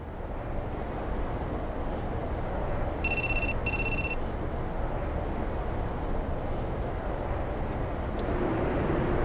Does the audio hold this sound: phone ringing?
yes